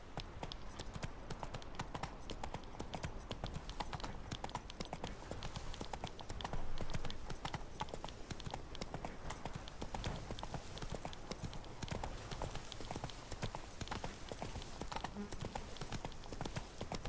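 Geralt's horse Roach in The Witcher 3 clip-clops at a steady trotting rhythm, hooves beating continuously and close over a constant game ambience.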